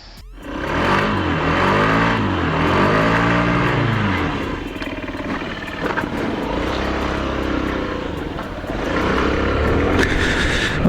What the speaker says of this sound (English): we're away on the Honda 50 Zoomer